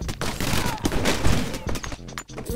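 Rapid gunfire bursts and loud crackling shots from a machine gun in the video game Stick It to the Stickman, dense and continuous through most of the short stretch, with a voice talking faintly underneath.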